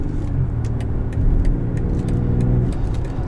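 A 2020 BMW X4 M40i accelerating on the road, its engine drone steady and close with a low, rising rumble and faint tyre and wind noise, no voices.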